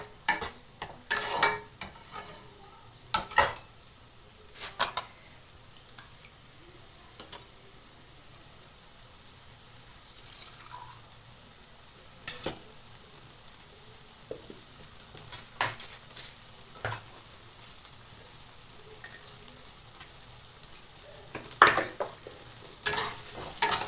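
Chicken kofta curry masala sautéing on high heat, with a soft steady sizzle under repeated spatula scrapes and clinks against the pan in irregular bursts, close and fairly quiet.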